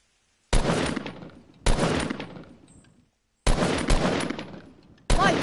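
Gunfire in the video game Fortnite Battle Royale: four loud bursts of rapid shots, each starting sharply and trailing off, separated by short silences, with no talk over them.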